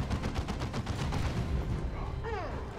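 Rapid bursts of gunfire crackle from the Dawn of War II strategy game, sniper shots mixed into a dense, continuous barrage of battle noise.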